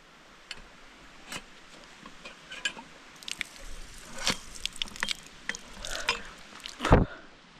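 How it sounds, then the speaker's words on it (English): Water from an outdoor hand pump spatters and splashes as someone washes their face on a trail, with irregular close dripping and sloshing bursts that grow louder toward the end. "Found a water pump. Time to wash my face."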